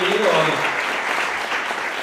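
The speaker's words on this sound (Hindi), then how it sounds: "एक बार जोरदार तालियां हो जाए आज की इस प्रस्तुति के लिए।" Audience applause after a stage performance of a play, steady crowd clapping throughout, with a voice speaking over the first moments.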